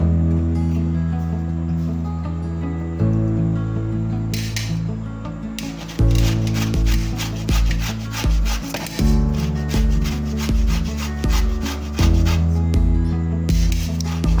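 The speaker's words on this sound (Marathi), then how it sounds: "मी आंबे हे सोलून घेतलेले आहेत अर्धा पाऊण किलो हे आंबे आहेत दोन तर आपण हे किसून घेऊया" Peeled raw mangoes grated by hand for murabba, a loud rhythmic rasping scrape repeating in steady strokes close up, with music playing underneath and no talking.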